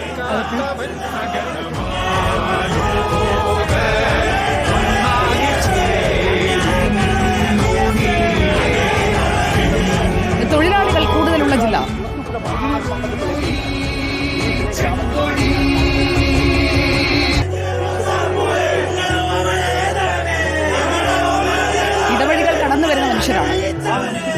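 Dense crowd at a funeral procession leaving Durbar Hall, a continuous roar of chatter and scattered shouts with a close voice speaking over it the whole time.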